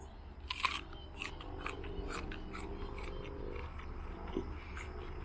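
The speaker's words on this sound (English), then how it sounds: "I'll just take one bite so you can tell from the crunchiness of it" A dried jujube fruit is bitten into, giving a sharp crunch followed by several quieter crunchy chewing sounds, close and alone over a low steady background hum.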